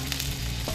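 Palometa fish slices sizzle in garlic-flavored oil in a pan, a dense, steady frying crackle with faint stirring scrapes, close and continuous, with no voices.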